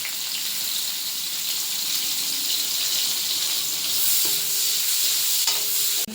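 Finely chopped onion, with fennel, cloves, cardamom and cinnamon, cooking in hot oil for cauliflower gravy: a steady, bright sizzle that runs without a break, with a few faint clinks and stirring sounds near the end and no talking.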